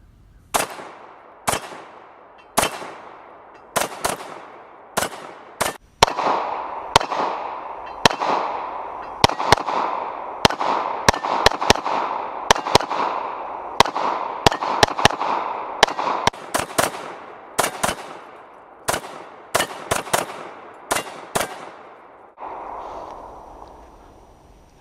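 An FN FNS 9 handgun fires a full 17-round magazine at an outdoor range, sharp loud reports spaced irregularly about a second apart, each followed by a brief echo, with no talking.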